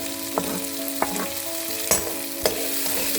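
Raw peas, onion and curry leaves fry in hot oil in a steady, close sizzle, with a few sharp spatula scrapes and pops breaking through at intervals; no voices.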